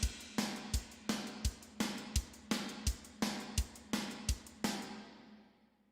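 A sampled drum kit pairing Sean Pandy shells with NT cymbals plays a steady rock beat, with punchy kick and snare hits under crashing cymbals for several bars before the final cymbal rings out and decays.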